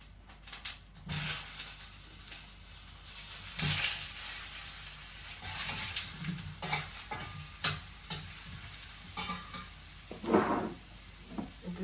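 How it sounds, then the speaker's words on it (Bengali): Potatoes and cumin seeds fry in oil, a soft sizzle under repeated scraping and stirring strokes of a spatula, fairly quiet and close, with no voices. "আলুটা একটু ভেজে নেই"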